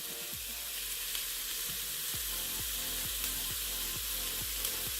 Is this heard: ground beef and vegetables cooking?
yes